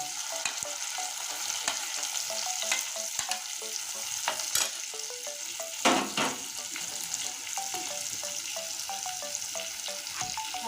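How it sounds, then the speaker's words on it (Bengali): Chopped tomato and garlic paste fry in a pan, a steady bright sizzle broken by repeated scraping and clinking stirs, one louder scrape partway through, with no talking. "এখন দিয়ে দেব টমেটো কুচি আর এখানে আছে রসুন বাটা এটাও দিয়ে দিচ্ছি সব একসঙ্গে দিয়ে আমি মশলাটা করতে থাকবো সুন্দর করে"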